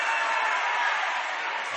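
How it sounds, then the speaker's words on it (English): A crowd cheers loudly and steadily at a volleyball game in a small gym, a dense wash of voices without pause. "You hear the crowd here tonight really getting into this, and it's a small gym"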